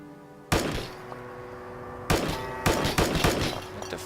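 Gunfire in Fallout 4 from modded weapons such as a 12.7mm pistol, Mosin Nagant or assault carbine: one sharp loud shot, a pause, then a rapid cluster of several close, ringing shots.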